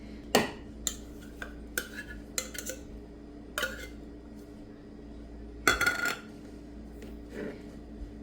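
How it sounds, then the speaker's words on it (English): A fork clinks and taps against a bowl while mashing drained white crab meat into cream cheese. The sharp metallic tinks are close and come irregularly, with one louder cluster near the end, and no one speaks. "I smash it in and mix it all up with a fork real quick"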